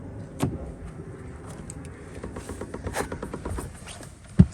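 Unlocking a Mercedes car with its key fob gives a series of soft mechanical clicks and rattles ending in a sharp thunk, close and moderately loud.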